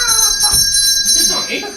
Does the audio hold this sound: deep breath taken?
no